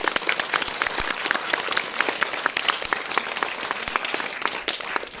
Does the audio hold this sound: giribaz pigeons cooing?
no